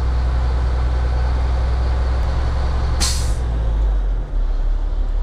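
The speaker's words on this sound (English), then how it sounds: "that was the governor kicking out" Air brake governor on a truck kicking out during a Class B pre-trip inspection: a loud, sharp hiss of escaping air bursts out over a steady low diesel idle rumble, then fades within about half a second.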